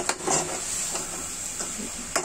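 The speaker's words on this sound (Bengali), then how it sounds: "গরম মশলাগুলো সে তেলে ছেড়ে দিয়েছিল।" Whole garam masala (cardamom, cinnamon, cloves and black peppercorns) sizzles in hot oil for a home-style chicken curry, a steady close hiss broken by a few stirring scrapes and taps, with no talking.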